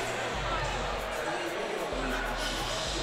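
Dense crowd noise fills a packed high school basketball gym during a tied game between Therrell and Southwest Dekalb, a steady loud roar of voices with low thumps underneath.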